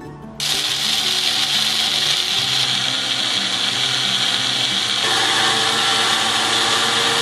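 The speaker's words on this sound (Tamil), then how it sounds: "இந்த கடலை பருப்பை வந்து நான் கிரைண்டரில் போட்டு அரைக்க போகிறேன்" Chana dal being ground into flour in a mini grinder: a motor switches on abruptly and keeps up a loud, steady whirring grind with a shifting mechanical hum.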